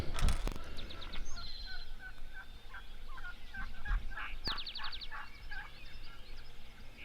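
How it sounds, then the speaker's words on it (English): Wild turkeys gobble in open Nebraska cattle country, several rolling gobbles rising in the distance and one louder burst nearer, over steady wind and a few sharp knocks. "I like hearing turkeys gobble up"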